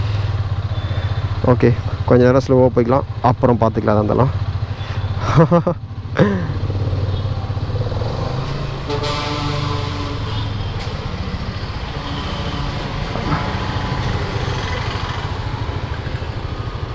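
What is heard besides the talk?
Hero Karizma XMR 210 motorcycle engine running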